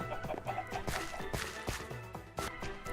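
Chickens cluck repeatedly in Minecraft, the blocky sandbox video game, their short clucks overlapping in quick, uneven succession at close range with no speech.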